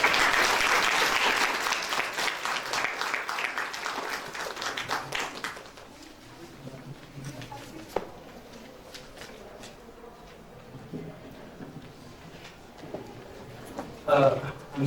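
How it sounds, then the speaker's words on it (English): Audience applause at a young writers' poetry conference in Pakistan, dense and loud clapping for the first five seconds, then fading into scattered claps and room murmur, with a brief burst near the end. "Please give a huge round of applause"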